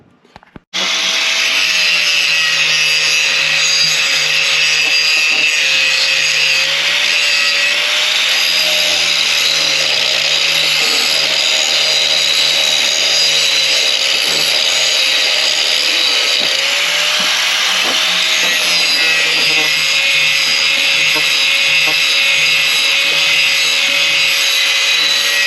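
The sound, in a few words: disc grinder grinding steel pipe on tractor cab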